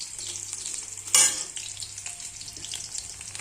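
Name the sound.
frying okra with chopped onion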